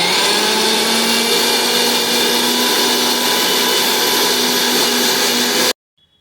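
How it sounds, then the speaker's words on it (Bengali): A mixer grinder grinds lentils in a mixing jar with a loud, continuous whirring roar that cuts off abruptly just before the end, leaving near silence. "দেখো বন্ধুরা, আমরা এখন মিক্সিং জারে বেটে নিচ্ছি।"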